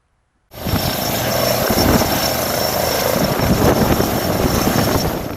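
An ambulance helicopter starts up abruptly and keeps going: a steady, loud rotor and engine roar with a rhythmic chop, no voices over it.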